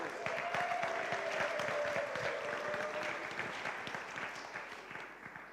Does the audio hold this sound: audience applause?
yes